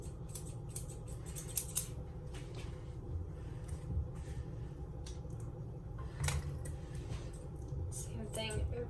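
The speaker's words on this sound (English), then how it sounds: "I'm going to let my round shears do my work for me." Round grooming shears snip a schnauzer's beard in a series of crisp, quiet metallic clicks, irregularly spaced and close, over a low room hum.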